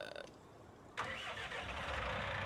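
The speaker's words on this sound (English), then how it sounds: "I'm going to bring the tractor up." A tractor engine starting in the video game Farming Simulator 19: after a short quiet stretch, the engine turns over and settles into a steady, loud idle that keeps running.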